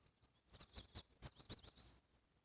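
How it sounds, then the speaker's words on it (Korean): A few short, high chirps from a small bird at a campsite in the morning, quick and bright, against a quiet background. "이런 새소리 엄청 잘 들리네요"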